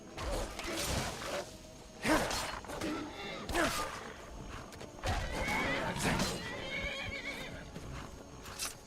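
In Skyrim, a horse whinnies several times in loud bursts while its hooves clatter and game sounds rumble beneath, with a faint voice briefly underneath.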